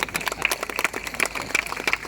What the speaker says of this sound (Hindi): तालियां अभी भी कम आ रही हैं